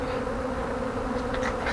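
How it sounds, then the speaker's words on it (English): A honey bee swarm buzzes around old bee boxes on a patio, making a dense, steady hum close by with individual bees whirring past. "A new swarm decided to move into these old bee boxes I had out on the patio"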